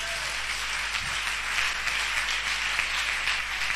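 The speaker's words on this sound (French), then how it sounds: "Acclame Jésus" A church congregation breaks into steady, dense applause, many hands clapping together in a sustained wash of sound that fills the room from start to finish.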